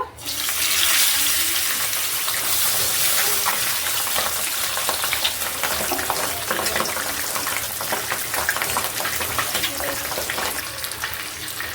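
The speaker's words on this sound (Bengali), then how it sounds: "তেলটা গরম হয়ে গেছে, মাছগুলো ভেজে নেব।" Pabda fish frying in hot mustard oil in a kadai, a loud, dense sizzle that runs continuously and close throughout, with no voices.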